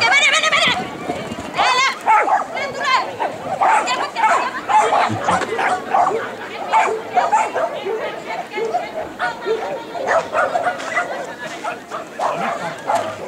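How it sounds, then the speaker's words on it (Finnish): Dogs bark repeatedly at a dog agility competition, rapid, excited yips and barks over constant crowd chatter and commentary, busy and moderately loud throughout. "Katsotaanpas mikä koira siellä on. Mikäs koira siellä nyt on sitten radalla."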